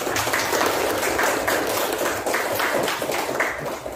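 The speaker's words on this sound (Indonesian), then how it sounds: "Tepuk tangan untuk kita semua ini" Audience applause for a classroom lesson on three-dimensional shapes, a steady dense patter of many hands clapping throughout, fairly loud and continuous with no break.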